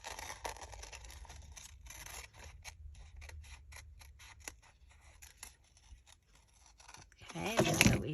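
Scissors snip through paper in a rapid series of close, crisp cuts for a scrapbook pocket page, with a louder rustle of paper handling at the end.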